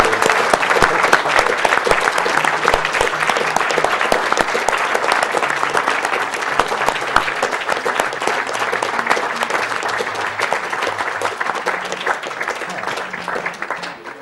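Loud, sustained applause from a large audience at the Awesome Games Done Quick 2014 speedrun marathon, dense clapping that runs through the whole stretch and slowly thins.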